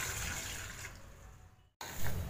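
Water poured into a pan of sugar to make sugar syrup, a steady close pouring and trickling rush that dips into a brief silence before resuming.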